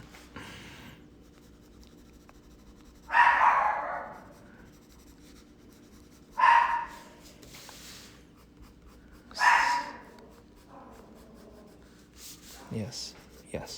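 A pet dog barks at delivery men outside, giving three separate short bursts of barking a few seconds apart, moderately loud indoors, with quiet pencil scratching between them and a brief low voice near the end.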